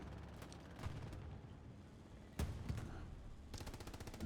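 Sporadic MG42 machine-gun bursts in a World War II video game firefight, heard at a distance with sharp cracks scattered among dense continuous battle noise.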